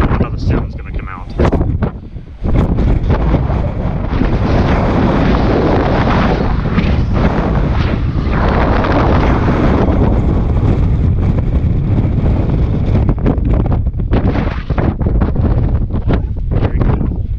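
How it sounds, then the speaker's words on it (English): Heavy wind buffeting the microphone on a hiking trail at Buzzard's Roost, Oklahoma, a loud continuous roar with rumbling gusts that persists throughout, broken by a brief lull near the start. "it's just too windy"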